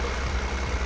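A truck engine in the Farming Simulator 2015 video game runs with a dense, steady rumble that holds at a constant level throughout, with no voices over it.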